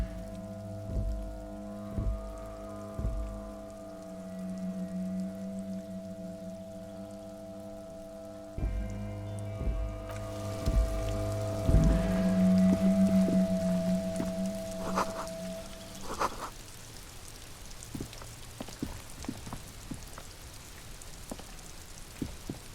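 Steady rain patters across hard surfaces in the video game Disco Elysium, a continuous, moderately loud wash heard alone, with low music tones running beneath it.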